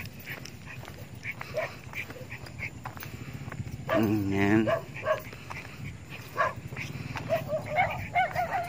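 Dogs bark in short bursts around a jogging spot, one yelping run standing out in the middle, while someone talks and footsteps and outdoor noise carry on throughout.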